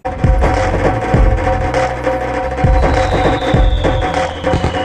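Loud, dense low drumming with repeated booming dhol hits and sharp cracking firecracker bursts going off together in a busy mix, from a Bollywood film scene.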